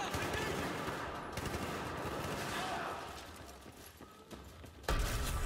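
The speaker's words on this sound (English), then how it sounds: "Stop shooting." Battlefield 4 campaign firefight with dense, continuous gunfire crackling throughout, rising to a louder burst near the end, while voices speak over the shooting.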